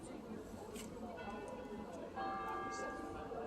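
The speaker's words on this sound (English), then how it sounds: "Bells of the courthouse tolling, where that flagpole is." Courthouse bells toll from a distance along a riverfront street in Savannah, with faint, sustained ringing tones over the broad noise of the city and wind, and people talking nearby.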